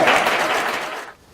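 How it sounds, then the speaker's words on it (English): Live audience applause at a mentalism show, a dense wash of clapping that fills the moment and then tapers off toward the end. "Give him a round of applause."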